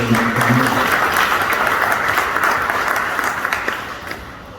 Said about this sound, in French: Applaudissons encore pour